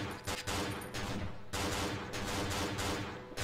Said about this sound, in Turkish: Ateş ediyorum.